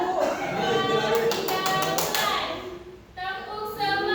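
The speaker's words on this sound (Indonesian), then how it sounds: "Tepuk semangat." A class of children does a rhythmic spirit clap in a classroom, a burst of quick, fairly loud taps and claps with voices chanting and talking around them.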